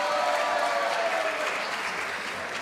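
A chamber of deputies bursts into sustained applause, many hands clapping in a dense, even roar that holds steady and tapers slightly toward the end, with no talk over it.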